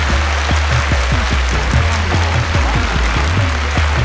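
Audience applause fills the hall at the Miss Russia 2005 final, a steady, loud wash of clapping from the whole room with a low, rhythmic thumping underneath.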